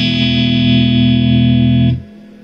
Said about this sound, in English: It's literally just me going into the amp, and the amp has a little bit of reverb set in